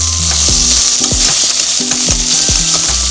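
Onions, green chillies and tomato fry in a pan for paneer chana biryani, with a loud steady sizzle and repeated scrapes of a spatula stirring through it, close and continuous.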